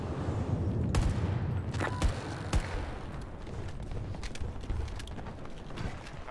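Gunfire in the Battlefield 2042 beta comes as sharp isolated shots and short bursts over a dense background of game noise and mechanical clatter.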